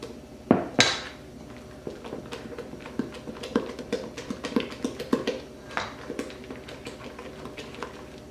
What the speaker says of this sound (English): So now I'll fold this mixture into my cream cheese and pumpkin pie mix